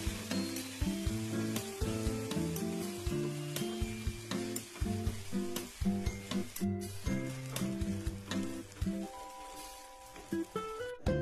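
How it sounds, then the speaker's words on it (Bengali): Ginger paste and tomato stir-fried in a pan, a continuous sizzle with crackle and the scrape of stirring, heard under loud background music throughout. "তারপরে দিয়ে দিলাম আদা বাটাটা দিয়ে বেশ খানিকক্ষণ নাড়াচাড়া করে নিলাম"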